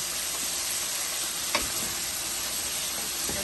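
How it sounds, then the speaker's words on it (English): Onion frying in oil for chicken biryani, a steady broadband sizzle held close throughout, with one brief louder scrape of stirring partway through and no voices. "And then you mix together the onion and the oil."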